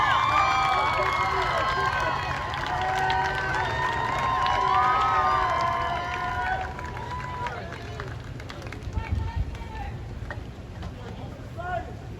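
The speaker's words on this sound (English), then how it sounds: "they're applauding the police officer" A crowd at a peaceful street protest cheers and applauds a police officer, loud and lively at first and then thinning out, with voices shouting and chattering through it.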